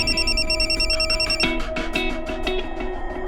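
A phone rings with an incoming call, its electronic ringtone repeating in a steady pulsing pattern, loud and close, with no talking over it.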